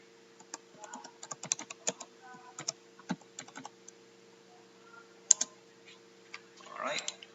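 File name typed on a computer keyboard during a CAD tutorial: irregular crisp key clicks in quick clusters, close and clear over a faint electrical hum, ending with a softer rustling burst.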